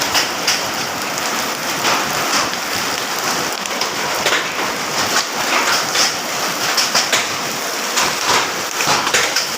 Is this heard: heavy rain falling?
yes